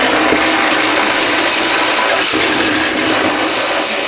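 A ratchet wrench unbolts the fuel tank strap bolts on a Lexus GS, a dense, loud, continuous clicking held close for the full four seconds with no voices.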